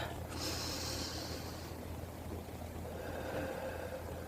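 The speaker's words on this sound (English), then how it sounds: "take a deep breath and fill the bottom of your belly with air" A slow, deep belly breath drawn in and then let out, audible as a steady airy rush close to the microphone over a low constant background hum, with no talking.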